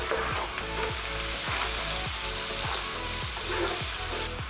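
Chopped onion sautéing in oil for a cabbage and prawn stir fry, a loud continuous sizzle with regular scraping strokes of a spatula against the pan, close and without talk.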